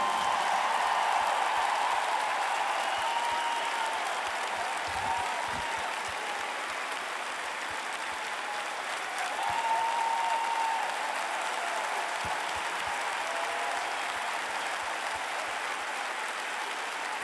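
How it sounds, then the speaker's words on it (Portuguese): A huge arena crowd at a concert in Altice Arena applauds a guest singer in a long, sustained roar of clapping with scattered whistles and cheers, steady throughout. "Um grande e enorme aplauso para o meu amigo"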